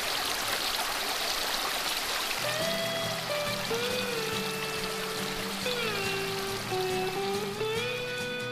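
Clean spring water flows at the Jack Daniel's source, a steady close rush and trickle running throughout, with a thin whistling tone joining partway.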